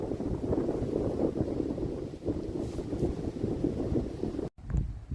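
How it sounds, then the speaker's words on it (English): Strong wind outdoors at Wilpena buffets the microphone in a continuous low rumble with gusty swells, cutting out briefly before resuming near the end. "It's very windy right now."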